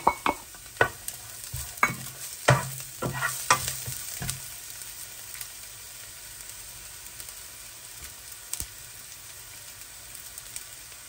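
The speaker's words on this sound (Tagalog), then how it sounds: "igisa na natin ang bawang. Isang buong ulo ito ng bawang." A whole head of garlic sautés in a pan for a pork ribs stew, with brisk stirring clatters and scrapes at first, then a quieter, steady sizzle for the rest.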